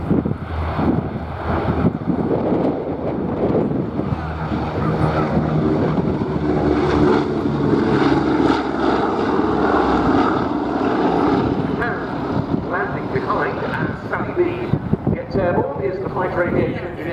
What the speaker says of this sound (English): B-17G flying fortress known as Sally B.